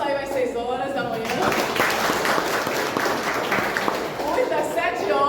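An audience at a Caravana Baiana da Fraternidade gathering bursts into loud, sustained applause, many hands clapping together for several seconds before it tapers, with voices faintly mixed in.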